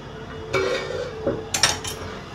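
A plate of coriander kothimbir vadi is set onto a small stand inside a pot of boiling water, making a few light metallic clinks and a sharp scrape of steel on steel, close by and quiet, with no talk.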